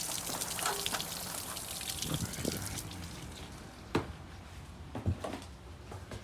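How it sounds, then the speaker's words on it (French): Rainwater runs off a roof and drips into the metal flashing: a steady wet trickle and patter, with a few sharper drip impacts standing out near the end. "une fois que la pluie coule, elle tombe dans le solin."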